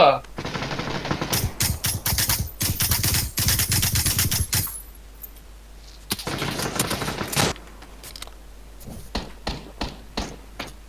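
Rapid gunfire in the battle-royale game PUBG, dense bursts of automatic shots that break off and resume, with a second volley and scattered single cracks near the end, loud and close under excited talk.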